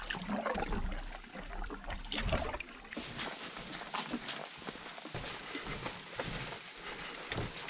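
Light rain showers patter steadily around a canoe trip camp in the Queen Elizabeth Wildlands, a soft continuous hiss with faint drips and splashes nearby, moderately quiet throughout.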